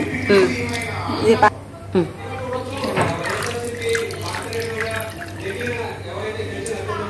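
Water splashing and sloshing as tripe is scrubbed and rinsed by hand in lukewarm water, with a person talking over it.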